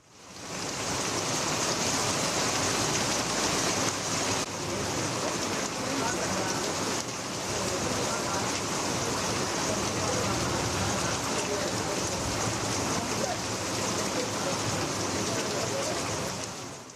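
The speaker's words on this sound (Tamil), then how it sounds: "இடி மின்னலுடன் கனமழை வெளுத்து வாங்குகிறது." Heavy rain pours down around Chidambaram in Cuddalore district, a steady, loud, dense wash of noise that holds without a break throughout, with no distinct thunder clap standing out.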